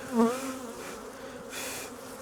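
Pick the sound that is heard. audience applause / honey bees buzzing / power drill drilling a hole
honey bees buzzing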